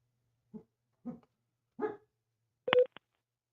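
A dog barks four times in a short, spaced series, each bark a little louder than the one before, with no talk over it.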